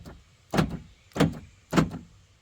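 Door lock actuator on a 1987 Mercury Grand Marquis being cycled with the door panel off: three sharp mechanical clunks at even intervals, close and clear against a quiet background.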